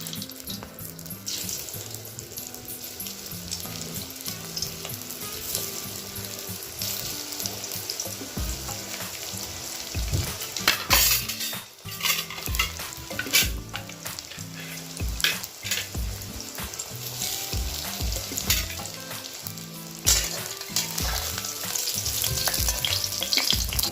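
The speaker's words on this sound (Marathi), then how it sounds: "कढई ठेवली, त्याच्यामध्ये तेल टाकलेले आहे मी आता, आणि आता फ्राय करून घेते मी।" Aluchya vadya, rolled taro leaf slices, frying in oil in a kadhai give a steady, close sizzle with frequent stirring clatters and clinks, the hiss swelling louder toward the end; no one speaks.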